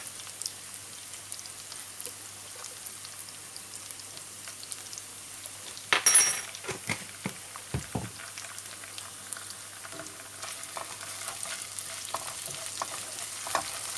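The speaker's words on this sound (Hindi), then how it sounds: "अब इसमें ये डालेंगे, थोड़ी सी इसमें ginger and 1 teaspoon garlic paste." Ginger and garlic paste frying in a karahi while making chicken karahi, a steady low sizzle with a sharp burst of spattering and stirring clatter partway through, alone with no talk.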